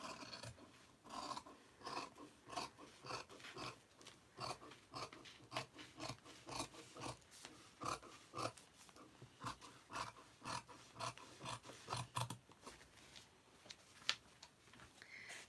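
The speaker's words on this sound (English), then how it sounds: "So if I just cut straight along here" Scissors cut through handwoven, handspun fabric in a quiet series of soft, rhythmic rasping snips, close up and without talk.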